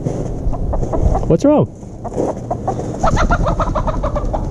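Chickens cluck and flap their wings near a backyard coop, several short bird calls and a rising squawk over a steady outdoor background, with a person speaking briefly.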